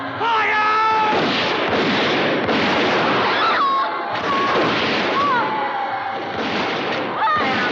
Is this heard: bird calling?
no